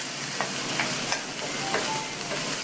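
Radish pieces sauté in hot oil with lightly fried onion and garlic, a steady close sizzle broken by occasional light spatula clicks as a quarter kilo of radish is stirred.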